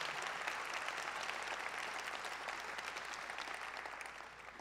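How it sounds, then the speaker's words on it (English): Audience at a Los Angeles Metro State of the Agency meeting gives a sustained round of applause, a dense, even wash of clapping heard from a distance that slowly fades toward the end. "I wonder if you might give him a big round of applause"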